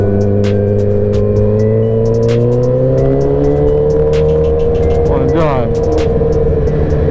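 A motorcycle engine revs with a loud, throaty exhaust, a steady low drone rising in pitch as the throttle opens, close by, with people talking over it.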